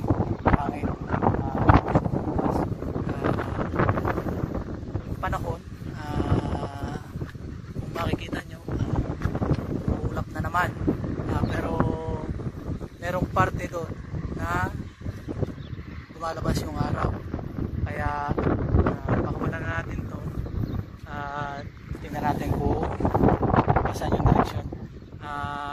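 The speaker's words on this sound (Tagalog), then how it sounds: "Sobrang lakas ng hangin dito, pero okay lang yan." Strong wind buffets the microphone in loud, rumbling gusts, with a voice talking over it and a motor humming underneath.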